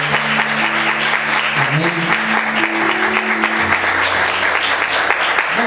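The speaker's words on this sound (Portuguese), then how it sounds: "Vamos aplaudir o Senhor, amém, queridos?" A church congregation applauds steadily, loud and close, with a voice speaking over the clapping.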